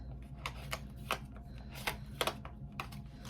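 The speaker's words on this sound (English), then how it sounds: "let me shuffle the deck." A deck of tarot cards is shuffled in a quiet room, producing several short, soft riffling and slapping bursts at irregular intervals, with no talking.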